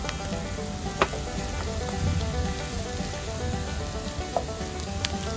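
Shrimp being stir-fried for Pad Thai, a steady dense sizzle with a few sharp clicks of a utensil against the pan, close and continuous with no talking.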